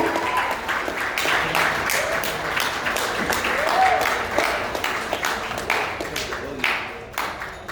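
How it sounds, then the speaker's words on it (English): Guests at a wedding reception applaud in a sustained, moderately distant round of clapping that thins and tapers toward the end, with a few voices mixed in. "let's give all the children another round of applause"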